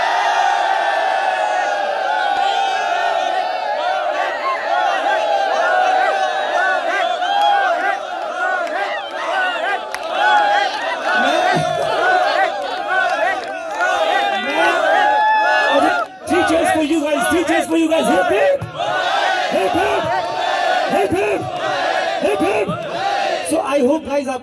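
A large crowd at a corporate team building event for Dr. Reddy's cheers, whoops and shouts loudly and continuously, a dense wall of excited voices with scattered individual yells rising above it.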